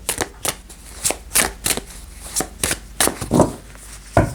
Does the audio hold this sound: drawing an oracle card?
yes